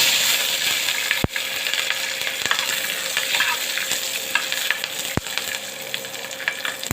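Green chillies frying in oil in a hot frying pan, a loud, close, continuous sizzle broken by a few sharp metallic clicks as a spatula strikes the pan, no voices.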